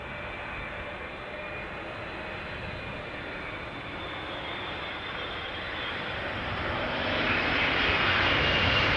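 An airliner descends on final approach to land at Amsterdam Schiphol Airport, a steady roaring engine drone that grows gradually louder as it nears, heard without any talking.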